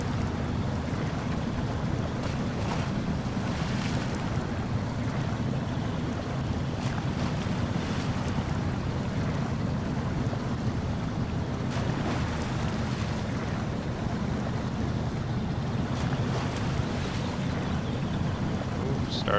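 A truck in SnowRunner pushes through water over rocks, giving a continuous low rumble with steady sloshing and rushing noise throughout.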